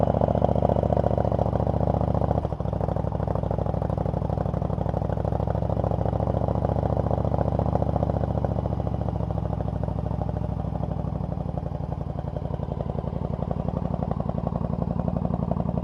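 A 1999 Yamaha V Star 1100 Custom cruiser motorcycle idles steadily with a deep exhaust note, a continuous low rumble heard close up and alone.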